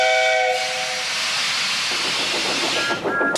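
The steam whistle of Thomas the Tank Engine, a tank locomotive in a children's model-railway show, sounds loud and close with a bright tonal blast, then gives way to rushing steam hiss and a short second toot near the end.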